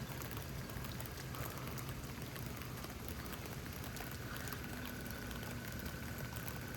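Steady rain falls in Houston, Texas, a dense even hiss of drops that stays constant and soft throughout with no voices.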